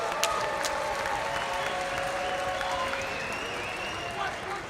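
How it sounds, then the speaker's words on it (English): A boxing crowd applauds both fighters in the ring after the bout, a steady, dense wash of clapping that stays full and even throughout, with voices murmuring underneath. "a big round of applause"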